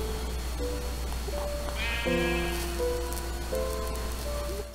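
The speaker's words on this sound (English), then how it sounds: "a sheep." Sheep bleating in Minecraft, several short wavering cries in a row over a steady background of rain in the game world, fairly close and clear with no talk.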